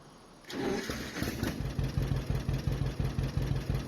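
A newly bought farm vehicle in a farming video game cranks and starts, then settles into a rhythmic, chugging idle with regular pulses, close and steady.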